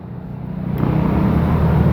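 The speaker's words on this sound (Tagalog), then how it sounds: "Nagkabuhol-buhol na yung traffic." Dense road traffic in a jammed street rumbles low and steady, swelling into a loud, close engine drone that continues without a break.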